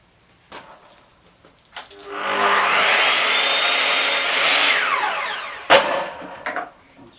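A saw cuts through a piece for fitting a PVC window onto wood framing, a loud steady rasping stretch of about four seconds, with quieter handling knocks before and a sharp clack after.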